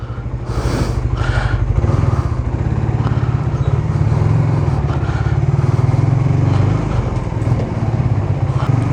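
Suzuki Raider Fi 150 motorcycle engine running close by, a loud, steady, throbbing idle with a low rhythmic pulse that holds evenly throughout; no talking.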